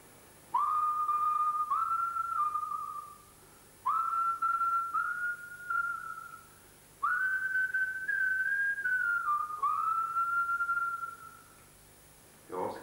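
A person whistles an invented folk-style melody in three phrases separated by short pauses, each a clear, bright sustained line with gliding pitch changes, close and alone with no accompaniment.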